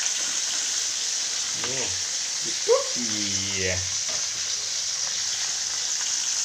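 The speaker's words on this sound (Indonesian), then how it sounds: "Ini dia goreng ikan ya." Gourami fish frying in used cooking oil, a steady broad sizzle running throughout with a brief louder pop; a voice speaks briefly over the hiss.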